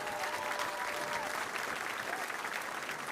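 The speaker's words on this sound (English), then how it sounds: "Clap it up for yourselves one more time" A comedy club audience at an improv show gives sustained applause, a thick, continuous patter of many hands clapping at an even level from start to finish, heard from within the room.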